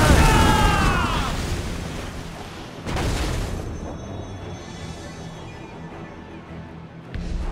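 Naval cannons on a sailing warship boom in a heavy broadside in Assassin's Creed Rogue, with a loud blast at the start and another around three seconds, followed by rumbling battle noise and a fresh burst at the end, while shouted voices sound through it.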